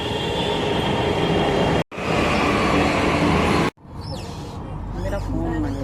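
A metro train rumbles and roars loudly past, with two brief sharp drops in the noise, then the carriage hum settles while a voice talks over it.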